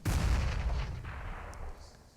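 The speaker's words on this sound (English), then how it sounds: "A nade through." A grenade detonates in Counter-Strike: Global Offensive during a pro league match, one heavy booming blast at the start that rolls off into a fading rumble over about two seconds.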